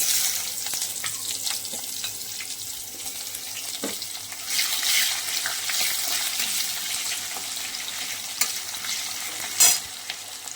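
Onions sizzle and fry in a pot for a wedding-style mutton curry, a steady hiss broken by scraping stirs and occasional metallic clinks, with no one talking.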